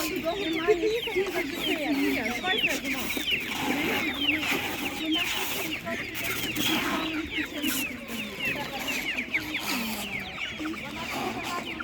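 Chickens clucking and chattering at a village animal market, many birds close by in a busy, continuous jumble, with voices talking faintly underneath.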